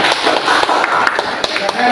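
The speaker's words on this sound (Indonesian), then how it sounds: "Kita kasih tepuk tangan untuk kelompok yang ini sudah melakukan" A classroom group of students claps for a presenting group, a brief burst of dense, brisk hand claps, close and lively.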